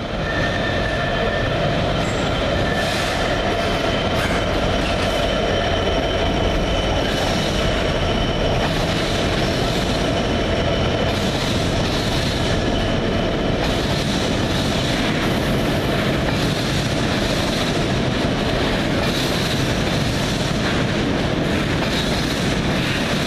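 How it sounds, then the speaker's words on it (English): A sleeper train bound for Edinburgh and Glasgow rolls through a station at night, a steady, loud rumble of railcars with faint clicks and wheel squeal running unbroken for the whole stretch. "Get the last sleeper, which is the one to Edinburgh, Glasgow"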